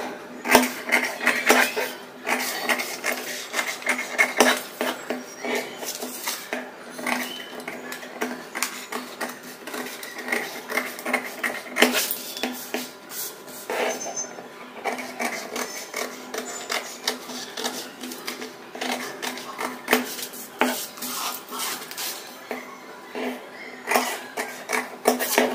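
Scissors cutting through paper for a size 34 katori blouse pattern, a steady run of crisp snipping and rustling strokes at close range for nearly half a minute, with no talk.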